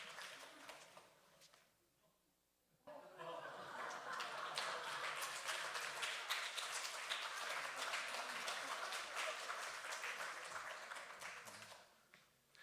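A congregation at a Sunday afternoon church worship service breaks into sustained applause, rising suddenly and holding loud and steady for about nine seconds before fading.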